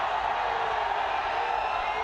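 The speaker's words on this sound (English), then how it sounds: "And listen to the crowd roaring." A hockey stadium crowd at a Men's Hero Hockey India League match gives a steady, broad roar, a dense wash of many voices that holds at one level throughout with no single voice standing out.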